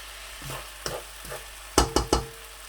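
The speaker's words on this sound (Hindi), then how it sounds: "अब मैं सोया सॉस जो है वो इस तरीके से 3 टेबल स्पून जो है वो ऐड करूँगा।" Soy sauce hits a hot pan of chicken fried rice, giving soft scraping stirs and then three sharp close sizzling bursts in quick succession, with no talk.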